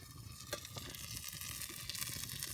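Soft, steady sizzling crackles close by, a faint continuous hiss of pizza cooking as the cheese melts, with small pops scattered through it.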